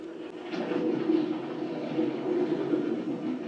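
A steady low rumble of a goods train rolling along the rails, continuous and moderately loud, with a faint higher hiss above it and no talking.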